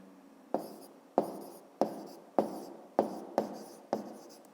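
Handwriting an answer to a fifth-grade maths exercise: seven short, scratchy pen strokes land about every 0.6 seconds in a steady rhythm, close and clear, with no talking.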